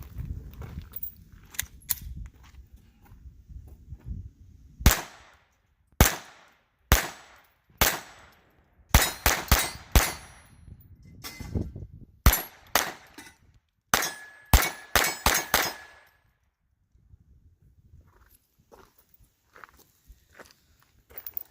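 A Taurus TX22 pistol fires subsonic rounds: about a dozen sharp, close cracks spaced irregularly over twenty seconds, with quiet pauses and faint metallic clinks between shots.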